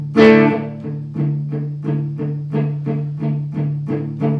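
A distorted, amplified electric guitar plays a song's strumming pattern, opening on a ringing strum and then moving into a steady run of chugging, palm-muted strokes, loud and close.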